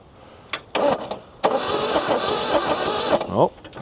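An old Chrysler engine, found abandoned in the bush, cranks in short bursts, then turns over in a longer rough churning run, with a brief voice near the end.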